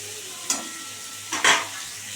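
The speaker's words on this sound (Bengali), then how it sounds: "এবার কুমড়োটা একটু ভালো করে ভাজা ভাজা করে নিই" Sweet pumpkin pieces frying in a pan, a low steady sizzle punctuated by two louder bursts of stirring or scraping.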